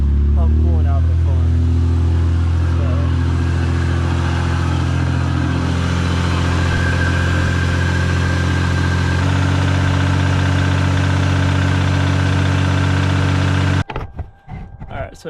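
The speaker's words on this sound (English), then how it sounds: "Go ahead and start the car." A car's engine idling steadily after starting, a loud, even mid-pitched drone running almost the whole time before cutting off abruptly near the end.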